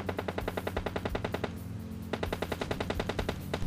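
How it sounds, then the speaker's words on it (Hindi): Gunfire in the PUBG Lite battle royale game: two loud, rapid automatic bursts of evenly spaced shots, the first lasting about a second and a half, then a brief pause before a second burst of similar length. "इस तरफ से गन शॉट की आवाज़ आई थी"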